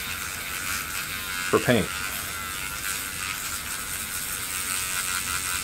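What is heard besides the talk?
Mr. Polisher Pro sanding 3D-printed resin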